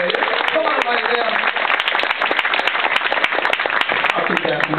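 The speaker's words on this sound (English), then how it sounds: "Nice round of applause." An audience at a ukulele contest in Honolulu, Hawaii, applauds steadily for a 10-year-old contestant taking the stage, dense clapping filling the room at moderate loudness without pause.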